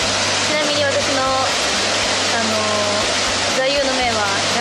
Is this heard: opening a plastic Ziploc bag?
no